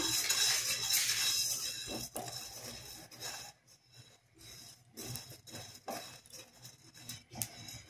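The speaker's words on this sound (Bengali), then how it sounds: "দিয়ে এবার এটাকে আমি শুকনো ভেজে নেব একটু।" Spices dry-roast in a wok for chilli pickle, heard as scraping and clinking of a utensil against the metal pan, close and fairly quiet, with stirring strokes coming in irregular bursts.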